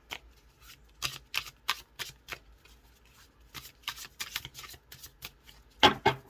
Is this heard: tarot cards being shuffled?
yes